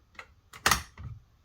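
A Porsche GT steering wheel snaps into place during installation, giving a few sharp clicks close by, the loudest a crisp snap near the middle, with nothing else around it.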